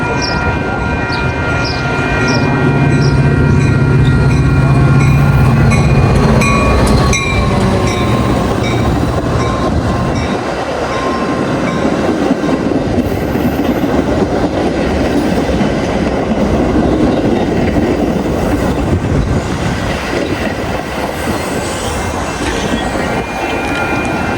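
A Metra commuter train rolls into Arlington Park station, loud and close, with a low rumble, clattering wheels and squealing brakes building over about twenty-four seconds.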